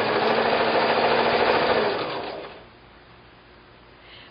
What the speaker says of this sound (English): I sew to that point, and then I stop and reposition